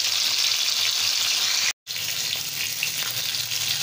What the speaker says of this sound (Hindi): मेरा फिश फ्राई हो रहा है।